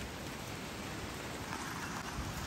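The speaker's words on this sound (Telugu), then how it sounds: "ఇప్పుడు వాన చాలా పడుతుంది." Steady rain pouring down in Hawaii, a dense continuous hiss of drops striking surfaces, fairly loud and unbroken throughout with no voices.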